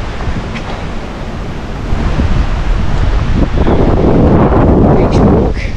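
Wind buffets the microphone and ocean surf rolls in steadily on Miami Beach during a walk, a loud continuous wash that swells slightly midway.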